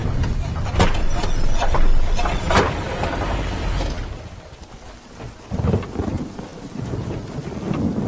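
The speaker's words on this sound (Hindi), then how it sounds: "जरा एक बार बाहर देखो, बारिश 1 मिनट के लिए भी नहीं रुकी है।" Heavy rain drumming steadily with loud, booming thunder claps heard from outside a car, the downpour continuing as the rumbles fade, with no talk.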